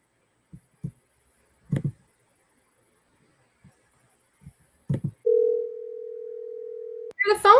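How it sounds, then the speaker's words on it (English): A steady electronic ringback tone sounds for about two seconds while a telephone call is being placed, after scattered short speech fragments and before talk resumes. "The phone's ringing."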